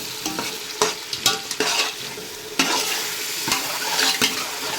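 Green masala of ground greens and green chillies is stirred as it fries for donne biryani, with a steady sizzle broken by several sharp scrapes of the spoon against the pan, loud and close.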